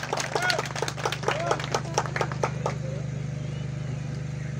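Applause breaks out among the crowd at a highland festival auction in Giresun, a brief burst of clapping over a steady low hum that fades out after a few seconds.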